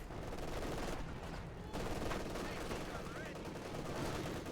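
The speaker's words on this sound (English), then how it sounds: "In the center there, Grenadiers being mowed down as well here, as LazyRen keeps up the Marxist meat grind" Machine gun fire cuts down German grenadiers in a Company of Heroes 2 match, heard as dense, continuous rattling bursts mixed with loud battle noise throughout.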